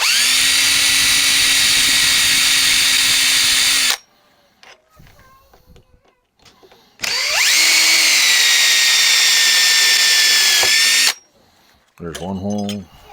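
A power drill bores a hole in metal in a garage in two loud, steady whining bursts, separated by quiet handling noises, followed by a brief voice.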